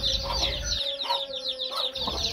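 Newly hatched Javanese chicks, eight of them with curled frizzle feathers like their walik hen, cheeping shrilly and continuously up close, their high peeps overlapping in a busy chorus with a low rumble at the start.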